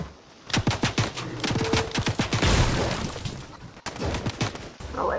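Gunfire in the Fortnite video game crackles in rapid bursts of overlapping shots, loud and close, continuing for several seconds with a brief gap near the end.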